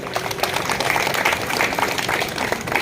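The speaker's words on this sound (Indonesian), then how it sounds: "mari kita beri aplaus yang meriah" An audience at a Yahukimo regency gathering applauds the PKK team with dense, steady clapping that fills the whole moment at close range.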